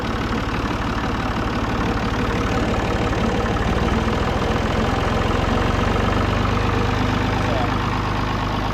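Tractor engine running steadily with the PTO engaged, set in low range second gear while baling hay, a constant loud low rumble throughout.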